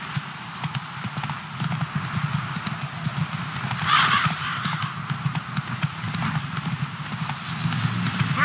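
Roach, a horse in The Witcher 3 video game, trots with steady rhythmic clip-clop hoofbeats, a brief whinny, and faint game voices beneath.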